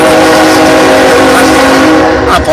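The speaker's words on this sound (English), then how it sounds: "There's a loud train behind me." A loud train passes close by, its horn blaring as a sustained tonal blast over the heavy rumble of rail cars, continuous and dominant until it drops off briefly near the end.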